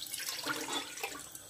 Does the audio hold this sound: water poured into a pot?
yes